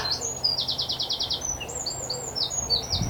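A bird chirps in quick repeated bursts of bright tweets, with a steady run of calls early on and more scattered chirps later, clear over a low background hum.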